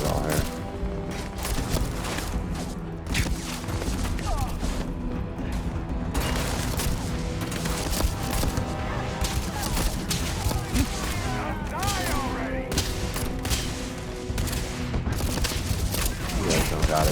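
Rapid bursts of gunfire from the space game Starfield, dense and continuous with booms and mechanical clatter throughout, loud and close, mixed with a voice talking over the action.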